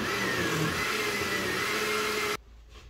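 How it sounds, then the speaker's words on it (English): A blender whirs at full speed making a pineapple Greek yogurt smoothie, a loud, steady, high-pitched motor roar for over two seconds before it cuts off abruptly into quiet. "So I plugged in the blender."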